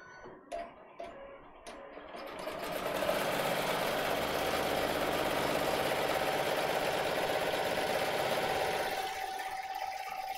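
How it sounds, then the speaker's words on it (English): An embroidery sewing machine sews a tack-down stitch on an appliqué, starting after a few soft clicks and settling into a steady, fast mechanical whir that runs loud and continuous for several seconds before easing off near the end. "And then I'm going to press the green button and it will sew the tack-down stitch."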